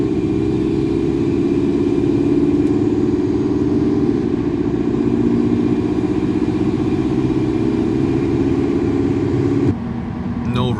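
A car with added aerodynamic modifications drives at highway speed, giving a loud, steady engine and road drone that holds evenly for most of the stretch and eases slightly near the end.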